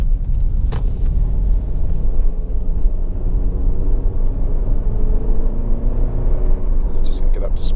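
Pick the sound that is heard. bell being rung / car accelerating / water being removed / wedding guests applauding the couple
car accelerating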